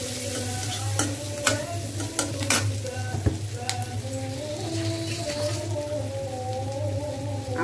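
Thinly sliced onion and chopped green chili stir-frying in hot oil for chicken chili, with a steady close sizzle and sharp clinks of a spatula scraping the pan at irregular intervals.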